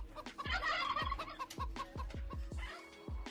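Turkeys gobble repeatedly at a poultry farm beside a restaurant complex with fountains and a playground, loud, close and overlapping, with clucking fowl around them.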